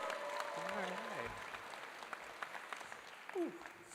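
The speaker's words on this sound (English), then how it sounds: "Can we give a round of applause for her?" Audience clapping at a dental school white coat ceremony, a steady wash of applause filling the room with a few voices and brief whistles or calls rising over it.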